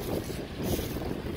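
Wind blowing outdoors on a very windy day, a steady broadband rush buffeting the microphone close up, with no talk.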